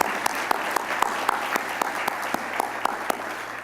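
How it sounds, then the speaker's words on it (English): Audience applause at a hall of fame induction ceremony for nominees and inductees, a steady wash of many hands clapping with some sharper claps standing out near the microphone, and a faint hum underneath. "can we get a round of applause for all of the new nominees and inductees this year?"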